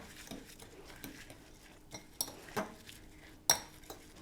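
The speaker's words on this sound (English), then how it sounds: "I'm just going to stir it all up." A spoon works mashed banana and oatmeal around a bowl, making quiet scraping with scattered sharp clinks against the bowl's side, close by and without talk.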